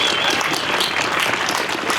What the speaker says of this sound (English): So a round of applause to Wes Sword